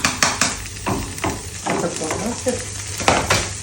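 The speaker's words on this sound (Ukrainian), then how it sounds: "Треба, бачиш, цибульку підсмажити." Onions fried in a pan for a home-style dish with sour cream, with stirring scrapes and a steady sizzle running throughout, close and moderately loud.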